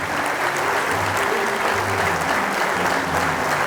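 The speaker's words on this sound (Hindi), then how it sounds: "जोरदार तालियां बजाएं" A standing audience at an insurance agents' gathering claps loudly in a dense, sustained wall of applause that stays even throughout, with faint low murmurs beneath.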